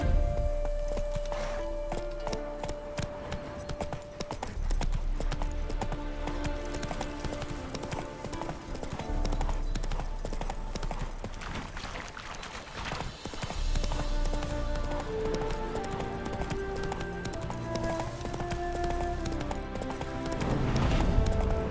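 Horse hooves clip-clop steadily in The Witcher 3 video game, running under a continuous bed of music, with an occasional neigh and a brief bit of speech.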